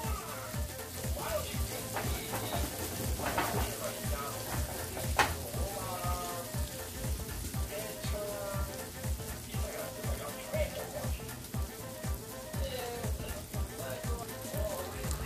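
Eggs frying in fully melted butter in a pan, a steady crackling sizzle with occasional stirring scrapes, as someone talks over it.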